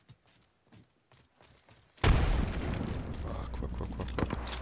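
A thrown frag grenade detonates in a close, sudden blast after a quiet stretch of faint footsteps and movement, followed by a loud rumbling, debris-filled roar that trails on for a couple of seconds.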